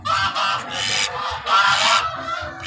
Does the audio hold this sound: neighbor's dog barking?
no